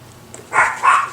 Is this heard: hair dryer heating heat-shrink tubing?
no